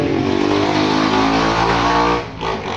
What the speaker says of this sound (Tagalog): grabe naman ang motor.